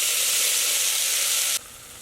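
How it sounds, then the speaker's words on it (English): Chopped tomatoes fry in an Instant Pot for Andhra-style pappu charu, a loud close hissing sizzle that runs steadily before dropping sharply to a softer hiss near the end, with no voices. "I am adding 2 small tomatoes chopped. Fry for another 2 minutes."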